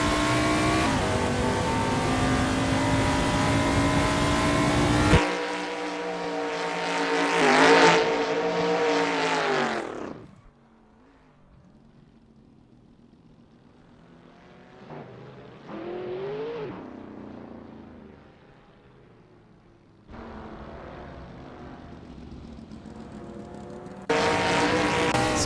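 An ACL TAR 70 Pontiac Firebird race car in Assetto Corsa at Sonoma Raceway's Nascar circuit. Its engine roars and revs through rising and falling gear sweeps, drops to a quieter distant drone in the middle, then surges back loud.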